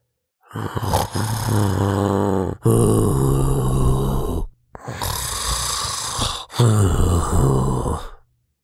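The big bad wolf snores loudly and close by, a voice imitating the sound with four long, rumbling, growly snore breaths separated by short pauses.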